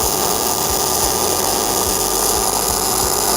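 A MIG welder runs a steady, loud crackling buzz as it lays a short bead on steel tube with ER70S6 wire and argon-CO2 gas, close up and continuous with no talking.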